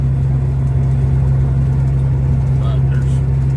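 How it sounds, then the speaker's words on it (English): A wheel loader works a laydown yard loading rock, its engine holding a steady, loud, low drone throughout with little change in pitch. "just a wheel loader loading"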